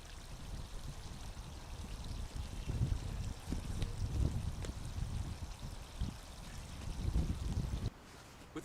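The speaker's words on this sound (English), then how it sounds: "allow the water to fill in" Water pours and gurgles steadily into a wildlife pond liner being filled, a close, continuous trickling rush that drops away abruptly near the end.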